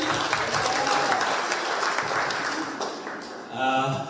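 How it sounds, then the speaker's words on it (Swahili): Church congregation at a PCEA service applauding the chairman, a dense steady wash of many hands clapping that fades slightly toward the end with a brief swell, no speech over it. "Tupigie chairman makofi."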